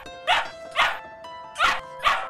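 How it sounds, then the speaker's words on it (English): Four sharp barks from a small dog in a steady rhythm, close and loud, with brief quiet gaps between them. "You love your dog, but you might not always love his barking."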